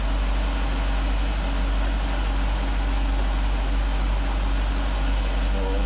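Steady, loud idle of a 2015 Jeep SRT engine, newly converted to LPG autogas, a deep continuous rumble heard up close with no speech.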